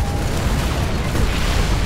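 Units blowing up in the real-time strategy game Command & Conquer 3: Tiberium Wars, a loud continuous wash of booming explosions and bursts running together without pause.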